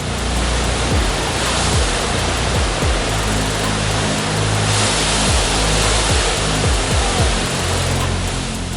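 Floodwater from the swollen River Tay rushes over a dam in a loud, continuous broadband roar, constant and unbroken throughout, heard close with no voices.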